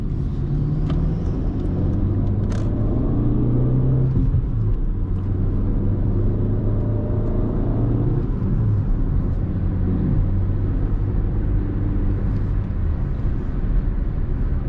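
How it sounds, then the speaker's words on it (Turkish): A 2012 Fiat Albea 1.4 sedan cruising in fifth gear, its engine giving a steady low drone and rumble with road noise throughout, heard from inside the car with no talk. "5. vites 80 ile giderken 2000 devirde gidiyor"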